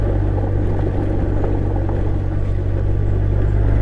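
A Honda GL1800 Goldwing motorcycle on the move, its engine a steady, loud low drone mixed with road and wind rumble that holds without a break from start to finish.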